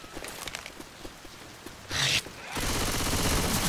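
Gunfire erupts in the zombie video game Left 4 Dead 2. Rapid shots rattle in quick succession, then a dense, sustained burst of automatic fire rolls on loud and close until the end.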